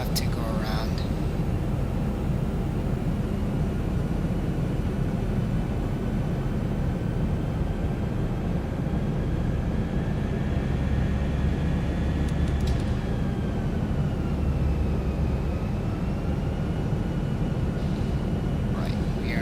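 Steady roar and whine of Boeing 737-800 jet engines in a flight simulator, loud and continuous throughout, with faint cockpit callout tones.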